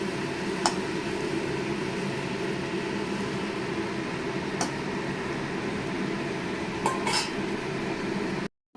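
Fish curry with lentil dumplings stirred in a pot on a steady background hum, with a few sharp clinks of a utensil against the pot spaced through the stir.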